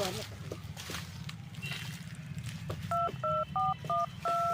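A telephone is dialed: after some faint rustling and low background voices, a quick run of about six short, clear keypad beeps plays in succession.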